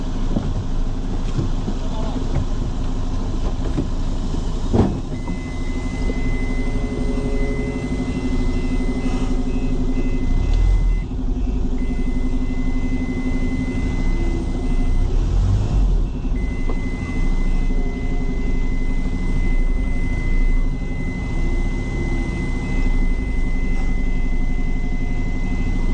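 A loaded truck manoeuvring and reversing on a road, its engine idling and rumbling steadily while a high, continuous reversing beep sounds for long stretches, with someone talking over it.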